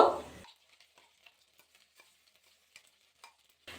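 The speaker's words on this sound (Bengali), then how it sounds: "তেলটা কিন্তু গরম হয়ে গেছে তেলের মধ্যে অ্যাড করে দেবো সামান্য কালো জিরে একটা শুকনো লঙ্কা যে মশলাটা বেটে নিয়েছি সেই মশলাটা এবার অ্যাড করে দেবো" Spice paste, nigella seeds and a dried chilli hit hot oil with a loud burst of sizzling. The sizzle quickly dies to sparse, quiet crackles and pops, with no talking.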